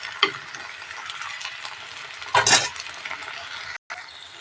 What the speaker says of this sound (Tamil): நல்லா பாவக்காய் வெங்காயம் எல்லாம் கொஞ்சம் நல்லா வதக்கி விடுவோம்